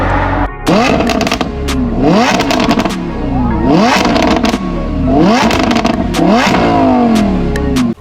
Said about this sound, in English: Backfire, you can feel it.